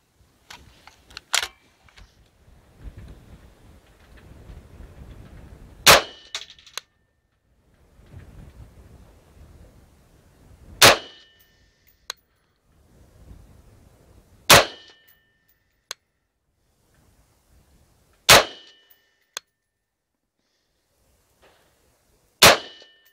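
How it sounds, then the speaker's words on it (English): Rifle shots with PMC X-TAC ammunition ring out at a range as five sharp, loud cracks spaced a few seconds apart, with quiet rustling and handling noise between them. "Next up, I'll shoot the PMC X-TAC ammo"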